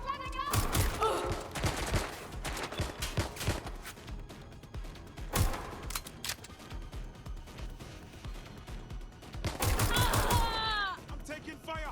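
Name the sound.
gunfire in video game Watch Dogs: Legion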